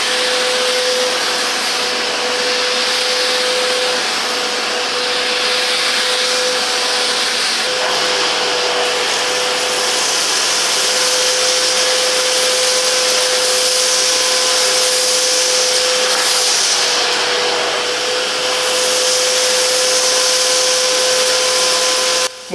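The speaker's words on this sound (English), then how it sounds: "High efficiency 650 watts motor for consistent and reliable cleaning results." Silvercrest SWFS 650 A1 water filtration vacuum cleaner with a 650-watt motor runs steadily and loudly throughout, a constant broadband whoosh with a sustained motor whine and no speech.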